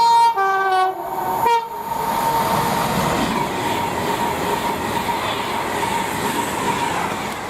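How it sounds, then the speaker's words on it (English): A Class 390 Pendolino bound from Manchester Piccadilly to London Euston passes through Tamworth on the West Coast Main Line, opening with a two-tone horn blast, then a loud sustained rush of rolling wheels and air as it speeds by. "the next train to pass by, we have a Manchester Piccadilly to London Euston bound class 390"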